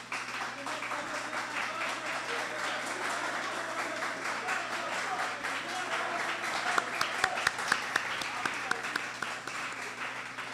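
An audience at a talk on youth employability in Haiti claps, scattered applause over room noise and a low hum, with a few sharp individual claps standing out near the end.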